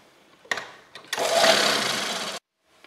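A sewing machine runs a stitching line along a shirt collar for a front-open kurta, first in two short bursts and then in one steady, close whirring run of about a second and a half before stopping.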